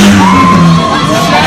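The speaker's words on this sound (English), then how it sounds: "Give them a scream." Crowd at a demolition derby on the Isle of Man screaming and whooping together, a loud sustained mass of yells with a rising shout running through it.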